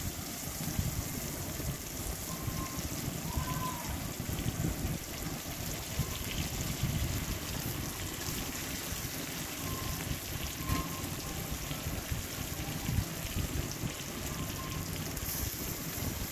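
Chopped onion and green chillies fry in a pan, giving a steady dense crackling sizzle like light rain that continues evenly throughout, with no talk.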